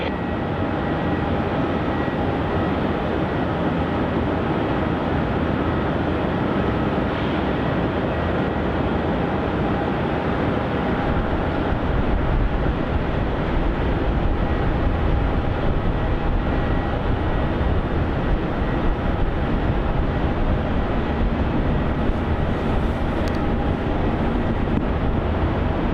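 A Saab 340 or similar airliner lands on runway 27 at Melbourne Airport, Australia: a steady, broad engine roar that holds for the whole stretch, with no talk.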